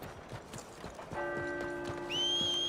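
A horse in the Red Dead Redemption 2 video game clip-clops in a quick run, its hoofbeats rising in loudness before a clear whinny at the end, all under game background music.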